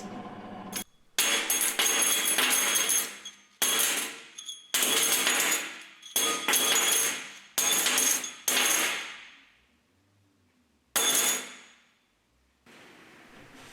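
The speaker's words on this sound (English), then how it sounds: "Then we bash them with a wholly inappropriate hammer." Loud metallic bangs in bursts, a hammer striking thin aluminium strips repeatedly with short ringing decays and pauses between groups of blows.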